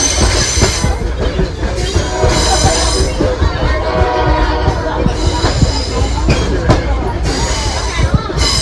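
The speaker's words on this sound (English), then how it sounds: "anytime we go around a curve, that squealing noise comes back because the flange is grinding against the rail" Train wheel flanges grinding against the rail on a curve, producing repeated high, piercing squeals over a loud, continuous rumble and clatter of rolling stock, with occasional voices mixed in.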